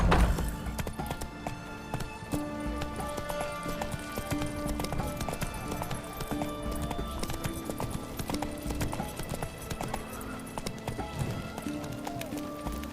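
Roach the horse gallops in The Witcher 3, a steady clip-clop of hooves running close and loud throughout, with an occasional whinny and a voice urging it on.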